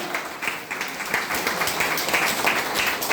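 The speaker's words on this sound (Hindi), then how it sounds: "हमारे एके यादव के लिए एक जोरदार ताली होना चाहिए।" Audience applause for a guest at a Hindi-language DXN business talk, a steady dense wash of many hands clapping that fills the room without pause.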